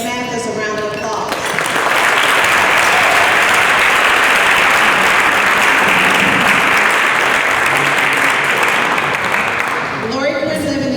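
Applause from the audience at a Rotary club meeting, a loud, even roar of clapping lasting about eight seconds, with a speaker's voice briefly heard before and after it.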